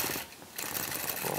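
Sewing machine quilting stitch-in-the-ditch on a churn dash block, a dense close mechanical whir that dips briefly and then resumes steadily with no talk.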